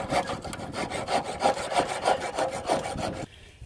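A knife blade saws back and forth through wood in quick, even rasping strokes, close and loud, then stops abruptly near the end. No one speaks.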